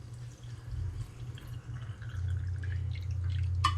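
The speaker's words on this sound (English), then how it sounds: "fill the rest up with water" Water poured into a quart jar holding half a cup of sugar, a low steady gurgling fill with small drips and splashes, rising slightly as the jar fills, ending in a brief bright splash.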